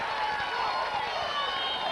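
Spectators at a 1993 New York State firefighter hose drill competition in Hempstead reacting to a team's run, a continuous low crowd murmur and cheer with a commentator talking over it.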